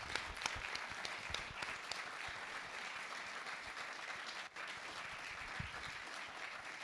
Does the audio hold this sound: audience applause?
yes